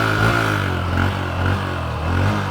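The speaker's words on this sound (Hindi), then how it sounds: "ये लो, एक ही बार में स्टार्ट हो गई हॉर्नेट।" A Honda Hornet CB 125 motorcycle engine idling just after starting, a steady close low-pitched hum with a gentle rhythmic pulse and slight swells, no voices.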